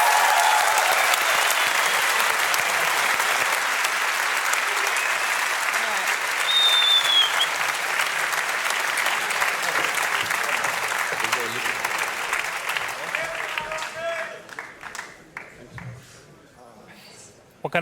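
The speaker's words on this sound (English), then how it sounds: "Can we get a round of applause for your TI8 winners" A crowd at The International 2018 Dota 2 esports championship applauds steadily and loudly for a long stretch, the clapping thinning out and fading near the end.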